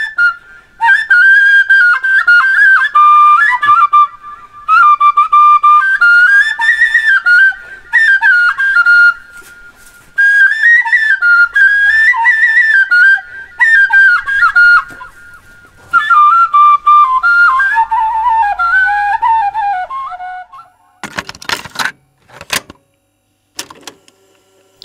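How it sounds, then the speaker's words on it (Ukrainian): A Gagauz end-blown flute made from a metal tube with an open end and no whistle mouthpiece plays a lively melody in repeated bursting phrases, loud and close, before ending with a few sharp knocks. "робили інструменти вже пізніше з металевої трубки, з відкритим отвором, без свистка"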